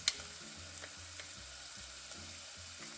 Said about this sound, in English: Add in the onions and then some garlic